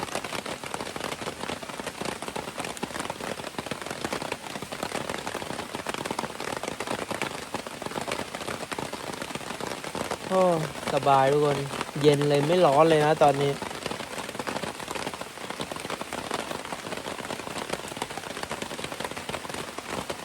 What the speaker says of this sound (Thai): ถึงฝนจะตกอย่างนี้